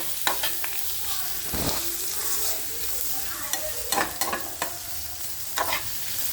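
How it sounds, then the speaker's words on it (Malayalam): Onion and breadfruit stir-fry in a pan, a steady soft sizzle broken by the scrape and clatter of a spoon stirring at irregular moments, close and fairly loud with no talking. "നല്ലപോലെ സവോള ഒന്ന് വഴറ്റി കടച്ചക്കയാണ്, കടച്ചക്ക മെഴുക്ക് വരട്ടാൻ പോവുകയാണ്."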